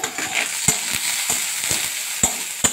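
Crushed garlic, crushed ginger and a little onion stirred in a frying pan, with a continuous hot sizzle broken by sharp spatula knocks against the pan.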